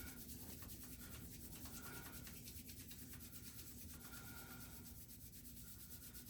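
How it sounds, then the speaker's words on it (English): Palms rubbed together vigorously make a soft, continuous brushing friction that stays steady and close throughout, fairly quiet, with no speech. "let's rub the soles of the hands together vigorously."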